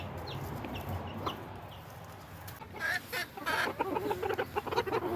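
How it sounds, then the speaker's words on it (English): Backyard chickens clucking inside a new coop, a low murmur of fowl at first, then louder, busier clucks and calls from several birds close by. "Here's all the chickens."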